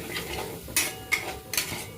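A spoon stirs a thick potato curry mixture in a pan, making three or four sharp metallic scrapes and clinks over a low bubbling background, near and brief, with no talk.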